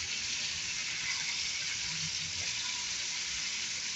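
Chicken frying in hot oil in a small pan, a steady, dense hiss of crackling bubbles holding constant throughout at moderate level, with no voices.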